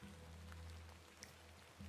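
Soft, steady rain falls in a Victorian-era scene from the video game The Excavation of Hob's Barrow, a faint, even patter with low ambience and no talk.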